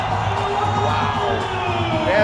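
A packed basketball arena crowd in Macau roars and cheers steadily after a player throws down a rim-rattling dunk, a dense sustained wall of shouting and whooping voices.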